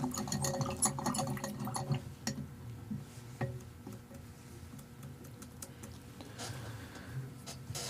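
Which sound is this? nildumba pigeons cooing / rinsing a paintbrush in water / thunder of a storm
rinsing a paintbrush in water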